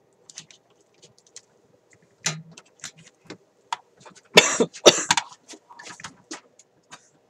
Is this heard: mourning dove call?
no